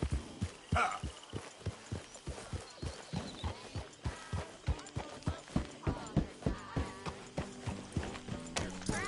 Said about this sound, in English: Careful with that horse